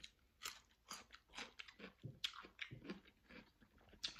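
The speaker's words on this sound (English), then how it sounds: "And that crunch is so satisfying." Fresh cucumber being bitten and chewed close up, a series of crisp, wet crunches in an uneven rhythm, faint and with no talking.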